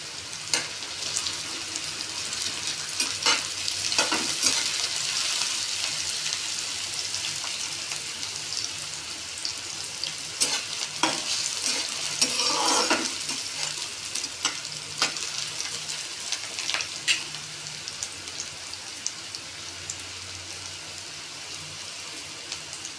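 Chopped onion and crushed garlic fry in a pan for an onion-fenugreek dish, a steady close sizzle with intermittent crackles and stirring scrapes throughout.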